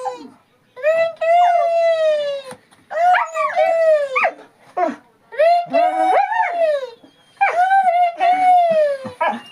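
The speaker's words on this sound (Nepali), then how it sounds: "मोबाइलको रिङटङ बज्यो नि त यो कुकुर रुन्छ पो त" A dog howls and whimpers in long, wavering, close cries set off by a mobile ringtone. Several drawn-out howls come in bursts, with short pauses between them.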